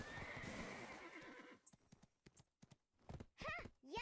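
A horse in the Black Desert video game gives a loud whinny over clopping hooves, then the call breaks into sharp separate hoof clops and a rising second neigh near the end.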